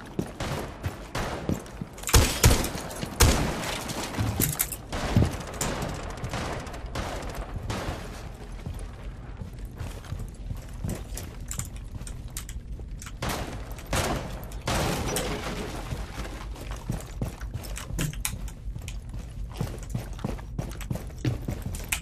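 Rapid gunfire bursts from Rainbow Six Siege, loudest early on, then steady shooting continuing under game ambience throughout, with scattered sharper shots.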